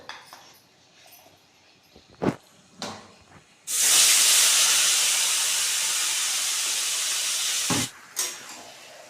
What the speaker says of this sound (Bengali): এবার মাখানো মাংসগুলো দিয়ে দেবো।